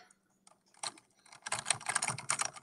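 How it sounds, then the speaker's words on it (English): Computer keyboard typing, sparse isolated key taps at first, then a rapid, dense burst of clattering keystrokes, close and fairly loud, with no voices. "Are you done typing?"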